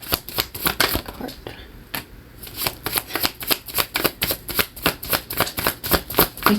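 Tarot cards riffled and shuffled in rapid bursts, a close, crisp flutter repeating in quick rhythmic waves with a short pause, and a voice is audible in the background.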